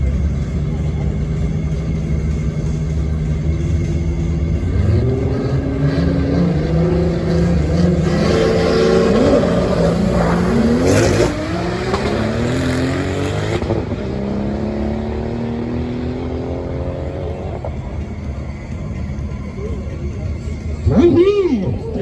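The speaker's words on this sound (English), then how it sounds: "VR6s. They do sound lovely." VR6-engined AWD race cars at Crail Raceway, engines revving and climbing through gears with a loud, rasping rumble that swells and fades as they pass, with a voice briefly over it near the end.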